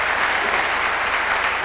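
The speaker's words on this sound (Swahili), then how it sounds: "Tumpikie Bwana makofi." A church congregation at a sermon claps for the Lord in a brief, steady burst of dense applause filling the room.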